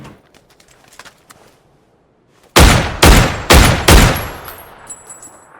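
An MK-14 rifle in the video game PUBG fires four loud, sharp shots in quick, even succession after a near-silent pause, leaving a faint ringing tail.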